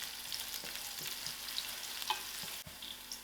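Garlic frying in a pan for a spinach and orange masoor dhal curry gives a faint, steady sizzle with a few soft clicks and scrapes, heard alone with no talking.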